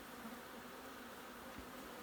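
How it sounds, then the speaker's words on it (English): Bees in a hive inside a house ceiling cavity give off a faint, continuous low buzz, the steady drone of many insects with slight swells, quiet and unaccompanied by speech. "Good many bees in there."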